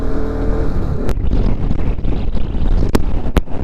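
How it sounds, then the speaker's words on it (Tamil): Strong wind blows across sandy terrain between mountains, a loud steady roaring buffet against the microphone with gusty fluctuations and a few sharp clicks or knocks. "காற்று பயங்கரமாக அடிக்குது."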